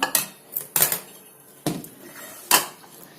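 Chicken curry made with raw mango is ladled from a pot into a bowl, four sharp metallic clinks of spoon against vessel at uneven intervals, close and fairly loud, with quiet scraping between them.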